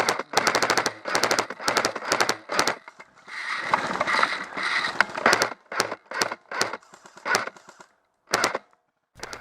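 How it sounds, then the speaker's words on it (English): Airsoft guns firing BBs among shaded trees at an outdoor skirmish, heard as rapid automatic bursts of sharp cracks in repeated strings, loud and close, with a noisier stretch of mixed crackle in the middle and short pauses between volleys. "we're having a little bit of problem shooting because we're in the dark and shade of the trees, shooting into the light"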